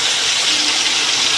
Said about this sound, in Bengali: এখন আর কিছুক্ষণ ভাজবো, আদা রসুনের গন্ধটা চলে যাবে।